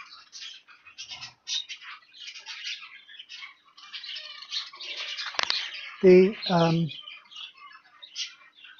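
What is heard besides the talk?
caged breeding birds calling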